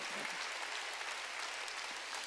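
A church congregation claps together during a Korean sermon, a dense, steady wash of applause filling the room at moderate level without a break.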